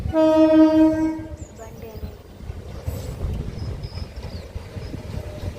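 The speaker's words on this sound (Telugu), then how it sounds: "గుంటూరు ట్రైన్ అది" A loud horn blast from a slow passenger train bound for Guntur, then the fading rumble of the passing train with faint whistles and some background voices.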